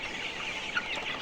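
Chickens on a poultry farm cluck close by in a short, busy burst, several birds overlapping.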